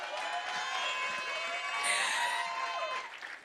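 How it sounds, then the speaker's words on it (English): Audience applause fills a room at a gala dinner, a steady broadband clatter of many hands with some cheering that swells midway and tapers off near the end. "so please give yourselves a round of applause"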